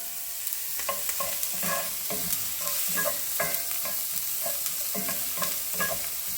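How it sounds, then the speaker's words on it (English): Garlic and ginger sizzle and fry in a pan for Thai chicken lettuce wraps, a steady hiss broken by repeated clicks and scrapes of stirring, close and with no talking. "In goes the garlic and the ginger"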